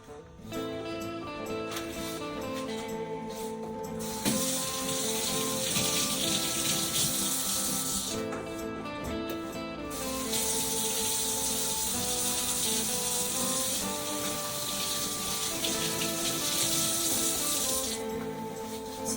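Water from a newly replaced kitchen faucet runs into the sink with a steady splashing hiss, pausing briefly twice and resuming, while tonal music plays throughout underneath.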